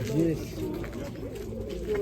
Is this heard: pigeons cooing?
yes